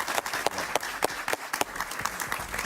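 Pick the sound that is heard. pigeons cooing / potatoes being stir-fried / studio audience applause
studio audience applause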